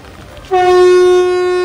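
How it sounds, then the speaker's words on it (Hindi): A loud, sustained train horn blasts suddenly and holds one steady rich tone for over a second, close by during monsoon rain, with no talking. "यहाँ पे कोई भी ट्रेन ना बिना हॉर्न दिए नहीं निकलती"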